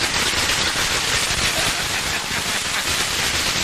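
Celebration firecrackers burst in a dense, continuous crackling barrage, loud and sustained throughout with no pauses, and no voices over it.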